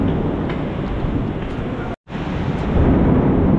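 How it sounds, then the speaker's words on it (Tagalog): Heavy tropical rain pours down with rumbling thunder, a dense, loud, continuous roar that drops out for a moment midway and then swells back even stronger. "lakas ng ulan no. Pati kulog kidlat."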